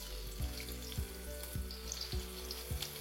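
Three thinly sliced onions fry in oil with spices for a chicken dish, a soft steady sizzle close by, punctuated by a regular series of dull stirring thumps roughly every half second, no talking.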